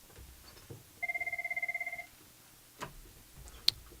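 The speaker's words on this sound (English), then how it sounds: "I paused there because somebody called the phone" A telephone rings once with an electronic trill that lasts about a second. It is fairly clear against a quiet room, and a couple of soft clicks and knocks follow.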